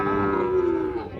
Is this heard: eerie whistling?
no